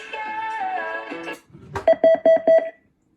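A page plays through wooden school intercom speakers: a sustained tonal chime-like melody, then after a short gap a rapid series of four or five sharp beeping tones, crisp and fairly loud.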